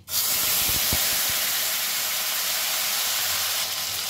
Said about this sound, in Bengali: এবারে যে টমেটো, আদা আর কাঁচা লঙ্কার পেস্টটা বানিয়ে রেখেছিলাম সেটা আমি তেলের মধ্যে দিয়ে দিচ্ছি।